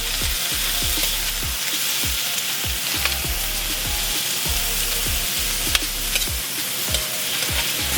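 Pork stir fry sizzles loudly in hot oil in a wok, a dense steady crackle punctuated by regular rhythmic scraping strokes of a utensil, close and with no talking.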